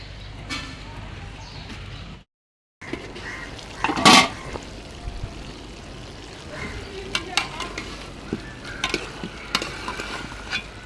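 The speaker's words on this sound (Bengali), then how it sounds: "সিমটা ভালো করে কষানো হচ্ছে।" Flat country beans stir-frying in a pan with potatoes and a fish head, spices cooking in; a steady sizzle runs throughout with occasional stirring clatter and a brief louder burst near the middle, no talk.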